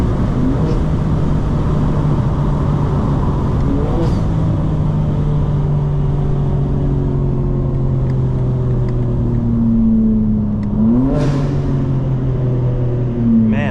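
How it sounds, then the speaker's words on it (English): A 2025 BMW M4 Competition xDrive accelerates hard at night in city traffic, its engine drone rising in pitch through the gears with a quick upshift near the end, heard loud from inside the cabin. "Car is so fast. That 4th to 5th is brutal."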